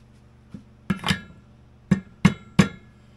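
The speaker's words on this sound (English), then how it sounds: "I might want a little rubber hammer action." A small rubber hammer taps the crank at the PTO end of a rebuilt single-cylinder vintage Polaris race snowmobile engine: five sharp, close knocks spaced unevenly, the last three coming in quick succession, with no speech.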